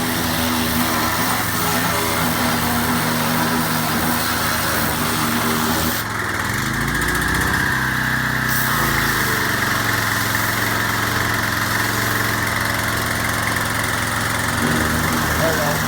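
Steady motor drone of a pressure washer in use on a car, loud and continuous, with the spray noise shifting briefly partway through as the nozzle moves, and a voice faintly under the machine.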